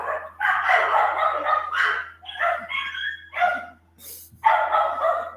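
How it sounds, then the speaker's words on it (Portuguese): A dog barks near a building where people keep walking past, in several loud, close bursts separated by short pauses, with no talking over them. "O cachorro."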